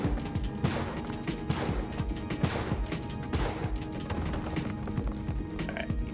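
Gunfire at an enemy in the Spelunky 2 video game, with a busy run of sharp percussive shots and thwacks in irregular bursts over the game's background sound.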